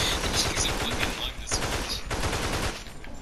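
Rapid gunfire from a pistol and other weapons in a zombie video game, a dense, continuous clatter of shots with a voice faintly underneath.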